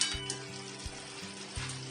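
Crab pieces drop into a pan of hot spice paste for a spicy crab curry, giving a steady sizzle and frying hiss with a few soft stirring knocks, close and moderately loud.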